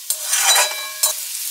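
Potatoes frying in a pan, stirred with a couple of short scraping strokes over a steady close sizzle, no voices.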